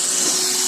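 A Dremel rotary tool runs at full speed during work on a Mercedes O2 sensor, a loud, close, steady high-pitched whine with no pauses through the short moment.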